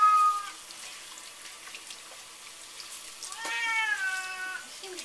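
A cat meows during a bath in a sink, with a long drawn-out wail at the start and another rising, strained meow later over faint running water.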